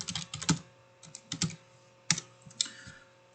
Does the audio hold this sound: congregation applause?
no